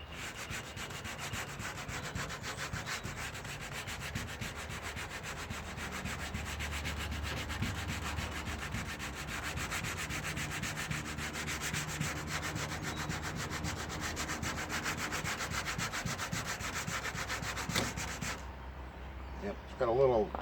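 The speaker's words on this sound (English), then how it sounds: "When the sandpaper starts falling apart at the seams, that's when it's getting close to time to get a new one." Sandpaper rubbed by hand over the steel body panel of a 1957 Chevy, a steady close abrasive scratching that runs continuously for most of the stretch before stopping near the end.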